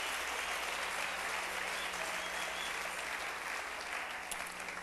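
A congregation in church breaks into sustained, even applause, a thick wash of clapping that holds steady throughout with faint crowd murmur underneath.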